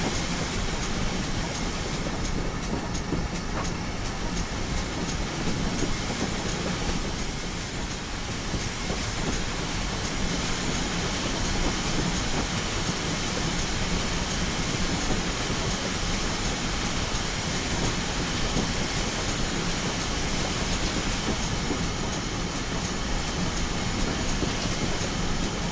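A GWR 9400 pannier tank steam locomotive runs in the Train Simulator Classic game, a continuous dense rumble and hiss of steam and wheels that holds steady and loud throughout with no talking.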